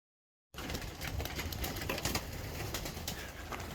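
Racing pigeons in a loft during the moult, giving a steady, close bed of cooing and rustling sound with scattered sharp clicks and flutters, no speech.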